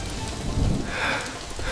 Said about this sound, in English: From the moment the Marines landed, the skies opened up. It rained 10 inches a day.